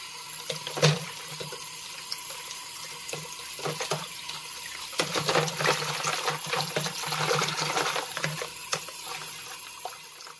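Roller combs being scrubbed with soap under a running kitchen tap, a steady splashing flow of water into a sink with irregular bursts and clatter as the combs are rubbed and turned under the stream.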